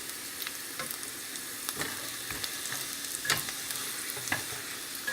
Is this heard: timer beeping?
no